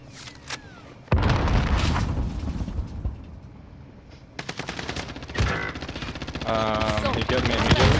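Warzone gunfire rattles in repeated bursts and scattered shots, loud and fairly close, with game effects and people talking over the action.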